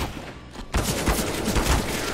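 Rapid bursts of video game gunfire erupt after a brief quieter moment, a dense, close volley of overlapping shots that continues to the end.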